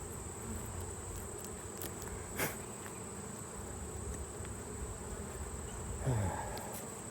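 Honeybees buzzing steadily and faintly around combined hives during an October inspection, a soft continuous hum with an occasional bee passing close, with no talking.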